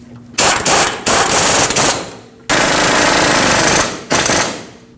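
An impact wrench drives the brake caliper mounting bolts tight on a 2005-2021 Nissan Frontier 2WD during a lower control arm replacement. Four loud, close, rattling bursts run back to back, each a second or more long, with no talk.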